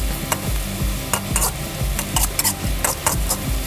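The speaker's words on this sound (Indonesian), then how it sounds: "boleh kita aduk-aduk seperti ini sesaat teman-teman, agar semuanya ini bisa layu dan wanginya ini bisa keluar" Shallots and other ingredients fry in a pan while a spoon stirs them in quick repeated scrapes, over a steady close sizzle with no voices.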